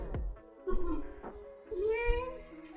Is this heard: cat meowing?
yes